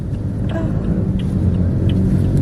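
A car rumbles past nearby, a low, steady engine drone with faint road noise that swells slightly toward the end.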